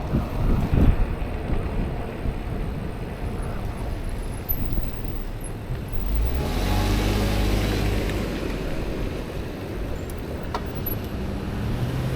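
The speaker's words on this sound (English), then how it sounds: "these cars are going slow" Cars roll slowly through busy city street traffic on a commute by e-bike, a continuous broad roadway rumble with wind buffeting the microphone and one vehicle swelling closer midway.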